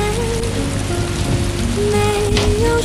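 Rain pours steadily in a film scene, a close, continuous patter and hiss, with faint sustained tones running underneath.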